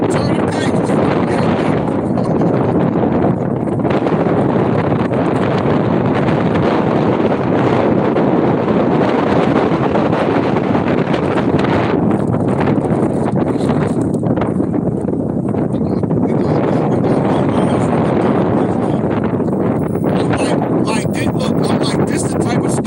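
Steady wind blows outdoors at a winter camp, buffeting the microphone with a continuous loud roar that hardly lets up, while someone talks intermittently over it.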